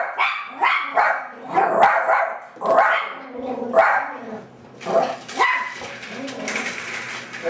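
Several dogs barking in a home kitchen, a run of sharp, fairly close barks in quick bursts, then softer yips and whimpers trailing off as the barking fades.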